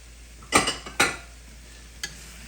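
A spoon scrapes and stirs through beef cheek ragout with bacon in a pot, two short scraping strokes close up, then a faint clink a second later.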